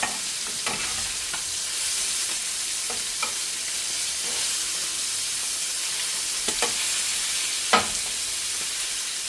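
Sardines sizzle in a hot frying pan with a bright, steady hiss throughout, broken by a few soft clicks and scrapes as the fish are turned over one by one; no voices.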